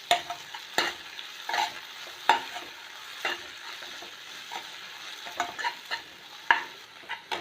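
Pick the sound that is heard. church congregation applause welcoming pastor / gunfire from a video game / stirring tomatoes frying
stirring tomatoes frying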